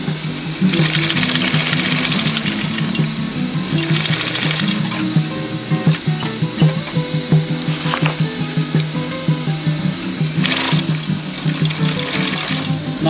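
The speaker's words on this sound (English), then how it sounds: "Now continue to sew it, to sew the webbing." A sewing machine stitches webbing onto a rollup bag, running loud and close in steady bursts with brief pauses between runs.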